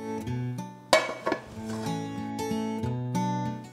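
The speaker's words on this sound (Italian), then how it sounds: "Poi appoggio sopra la pentola e con un colpo secco giro." A homemade stuffed focaccia filled with zucchini and pancetta is flipped in a frying pan using the pan's lid, giving a sharp metallic clank followed by lighter rattles and scrapes of lid against pan. Backing music plays throughout.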